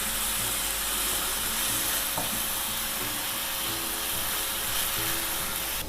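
Finely chopped ingredient frying in a pan until light brown gives a dense, continuous sizzle, close and steady throughout, with faint scraping stirs and no talking.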